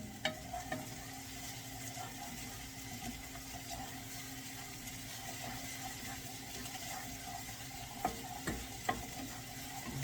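Home-canned tomatoes cooking in a pan give a low, steady bubbling sizzle with a faint hum beneath. A few soft clicks come through, quiet and continuous, with no one speaking.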